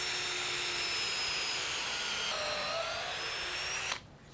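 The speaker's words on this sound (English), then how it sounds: "We're just going to put a little pilot hole in there to make screwing this little guy in easier." A power drill whines steadily at high pitch for several seconds boring a pilot hole in wood, then stops abruptly.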